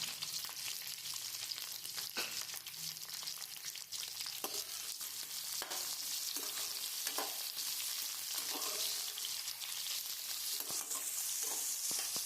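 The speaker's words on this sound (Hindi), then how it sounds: "अब हम इसमें जो है वो शिमला मिर्च को फ्राई करेंगे ऑयल में" Capsicum fries in hot oil in a pan, a steady hissing sizzle that runs throughout, with occasional faint stirring scrapes, quiet and close, no talking.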